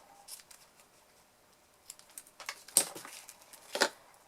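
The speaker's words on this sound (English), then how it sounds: "I've got my pool party satin ribbon, so I'm going to cut a length of that," Scissors snip through a length of satin ribbon in a quiet craft setting, a few soft crisp cuts with two sharper snips near the end, close and alone.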